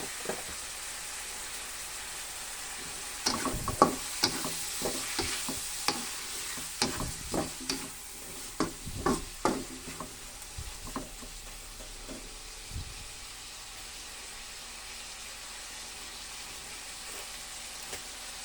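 Paella ingredients sizzle softly in a pan while a utensil stirs, a string of scraping, clattering strokes over a gentle frying hiss, then just the quiet simmer continuing alone.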